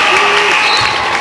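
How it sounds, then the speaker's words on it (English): A standing crowd at a boys' regional final basketball game gives the Apaches a loud, continuous ovation of applause and cheering, dense and close, with voices mixed in. "now we will get a full standing ovation for the Apaches"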